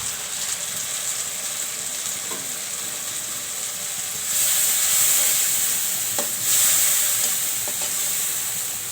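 Mixed spices tipped into a hot pan for a prawn and taro curry, a steady bright sizzle that swells louder around the middle and again near the end, with faint stirring clicks and no talk.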